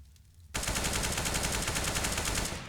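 Automatic gunfire in a Counter-Strike match on the Cobblestone map bursts in suddenly after a short quiet lead-in, a loud, rapid, continuous volley of shots.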